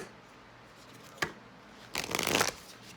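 A Moonology oracle card deck is shuffled close up: a single quick riffle snap, a brief pause, then a longer flurry of papery card shuffling.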